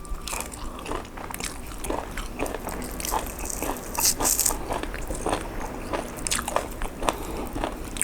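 Close-up crunching as someone bites and chews crispy-skinned roast suckling pig, with repeated sharp crackly crunches over about eight seconds and a faint voice in the background.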